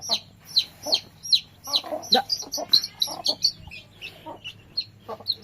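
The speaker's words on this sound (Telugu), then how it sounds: "కోడి పిల్ల అయితే అప్పనే మొత్తుకుంటుంది." A chick and hens cluck and cheep at home, a rapid series of sharp peeping calls over soft clucking, close and continuous.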